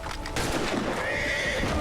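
A horse neighs loudly and close in the Assassin's Creed 3 game, a rising whinny over roughly two seconds with hoof clip-clops underneath.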